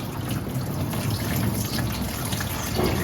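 Water runs from a tap in a steady, continuous rush that stays close and fairly loud throughout, with no speech.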